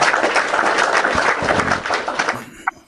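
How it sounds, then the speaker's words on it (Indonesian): Audience at an Islamic religious talk show clapping in a dense, steady burst of applause that fades out near the end, with no one speaking over it. "Kita kasih tepuk tangan"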